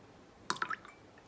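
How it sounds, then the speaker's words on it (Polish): Liquid poured from a carton in a kitchen in Japan: a brief, quiet burst of splashing drips and a small gurgle, close and alone against low room hiss. "I tak się nalewa prawidłowo z kartonów."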